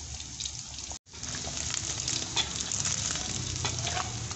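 Meatballs (bakso) frying in a pan, a steady close sizzle with crackling bubbles and faint stirring scrapes, briefly cut off near the start before the frying noise continues unbroken.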